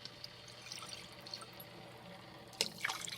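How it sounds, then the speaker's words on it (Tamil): Water poured into tomato rasam, a faint, soft trickle and light splashing near the end over a low background hum. "ஜலமும் குத்தியாச்சு"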